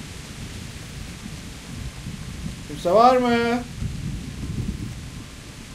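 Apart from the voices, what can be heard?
thunder during a storm in a video game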